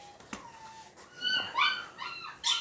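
A puppy whimpers and yips close by, with thin rising whines followed by a few short, sharp yelps. No one speaks.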